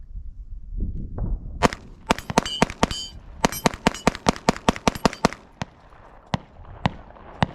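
A Sig Sauer P226 Legion SAO pistol fires a rapid string of about twenty sharp, loud shots at a large 8-inch circular target, close together at first and then spacing out toward the end.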